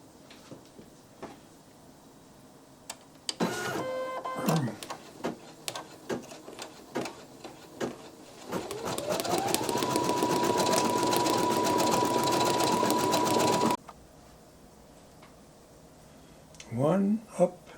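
Brother embroidery machine (PE900 or NQ1700E) stitching out a design: a steady, loud mechanical hum with rapid needle chatter runs several seconds in the middle, framed by shorter start-stop bursts, clicks and handling noises, with a voice talking at times.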